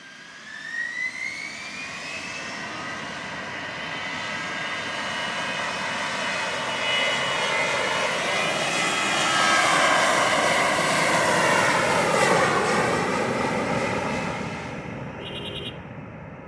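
A Transat airliner taking off from runway 25 at Montego Bay Airport in Jamaica, a loud jet engine roar with a rising whine that builds and swells as the aircraft accelerates nearby, then slowly eases off.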